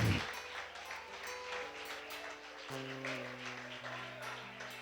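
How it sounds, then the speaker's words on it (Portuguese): A church congregation at a deliverance service applauds in a steady wash of clapping, while sustained keyboard or organ notes play underneath and shift partway through. "Agora você vai juntar uma na outra, aplaudindo aquele que é digno de honra, de glória, de louvor e de adoração"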